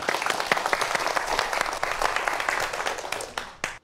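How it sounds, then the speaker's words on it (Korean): Applause from a live audience welcoming a guest speaker to the stage at a space science talk, a dense burst of many hands clapping at close range that holds steady for a few seconds, then tapers off abruptly. "다시 한번 이명훈 박사님을 박수로 모시도록 하겠습니다"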